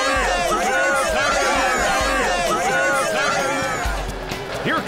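An ecstatic cartoon crowd cheers at a race, a dense, continuous roar of voices and whoops holding steady throughout, with busy babble layered underneath.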